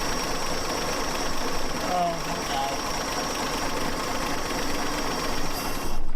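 Abandoned 1954 Chevy Bel Air engine being revived, a steady rough idle droning throughout with no accelerator pump, close and fairly loud.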